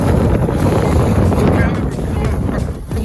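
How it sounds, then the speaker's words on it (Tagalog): Strong wind buffets a boat off Davao, roaring steadily as a dense rush against the microphone, loud and close for the whole stretch with little change in strength. "Siguro rinig nyo na yung hangin ngayon."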